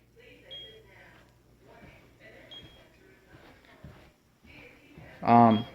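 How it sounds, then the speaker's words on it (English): Faint, spaced electronic beeps of a home alarm system's 60-second exit countdown sound under someone talking, followed by a louder, sharper tone at the end. "So it's beeping right now. I got 60 seconds to exit."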